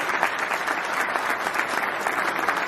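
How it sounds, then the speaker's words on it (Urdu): Steady, dense applause from a large audience at a patriotic speech event in Pakistan, filling the whole stretch at an even, moderately loud level with no voices on top. "اس ملک کے لیے بھی تالیاں بجائیں گے اور زوردار تالیاں بجائیں گے"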